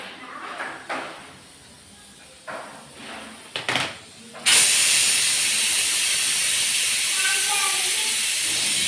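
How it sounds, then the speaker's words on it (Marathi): A few scattered clanks and knocks, then a small pressure cooker of masala rice abruptly lets out a loud, sustained hiss of steam that continues steadily to the end. "छोटूच्या पिटुकल्या कुकरमध्ये आमचा फेवरेट पिटुकला कुकर आहे"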